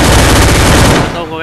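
Loud, sustained machine gun fire in a shooter video game, a dense rapid burst that cuts off near the end and leaves a fading tail.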